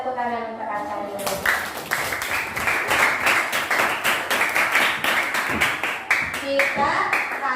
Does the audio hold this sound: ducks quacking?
no